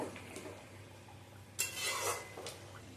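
A utensil clinks and scrapes in a pan while fish curry is stirred with fried onions, in a few short metallic knocks over quiet simmering, with one louder scrape midway.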